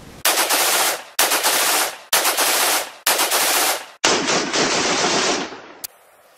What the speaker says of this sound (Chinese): Push the gun forward, and the recoil will cause the gun to bump fire.